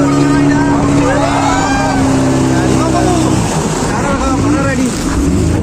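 A motorboat speeds across the water at Hirakud Dam, its engine a loud, steady roar mixed with rushing water and wind, with voices talking over it.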